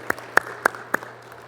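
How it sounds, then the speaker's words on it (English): A few scattered handclaps from a church audience, about four sharp claps spaced unevenly, fairly faint over a low steady hum with no talking. "Can we give them a round of applause?"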